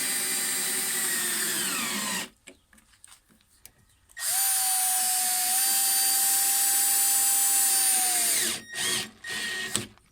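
Power drill driving 2.5 inch all-purpose screws while building a DIY epoxy metallic countertop: two loud, sustained whirring runs, the second long and steady, separated by a quiet gap and ending in short bursts.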